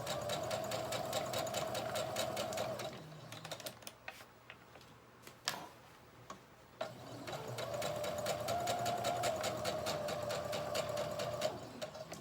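A sewing machine stitches a seam at its longest stitch length, running in a fast steady mechanical clatter, pausing for a few seconds with small handling sounds, then resuming, close and moderately loud.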